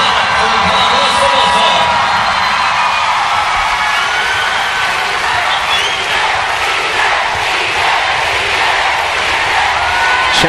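A packed arena crowd at a UAAP college match between De La Salle and UST roars in a long, continuous wave of cheering and whooping, loud and unbroken from start to finish.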